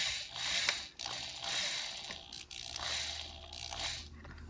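Screw being tightened while assembling the wrist of a robotic arm, giving a soft repeated ratcheting, grinding turn in several strokes, close but quiet.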